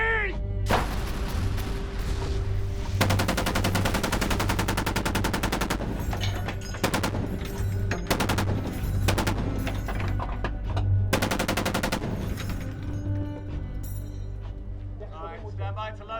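Gunfire from a staged special-operations TV drama scene: rapid bursts of automatic fire crackle through most of the stretch, loud and close, with shouted voices and dense action noise underneath.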